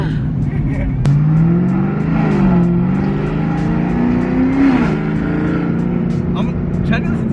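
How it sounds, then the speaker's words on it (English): A 900 hp Camaro ZL1 engine drones loud and close from inside the car, with tones rising and falling as it accelerates and a supercharger whine above the engine note, while people talk over it. "I'm trying to listen to the supercharger. It sounds cool. You hear it? The little whine?"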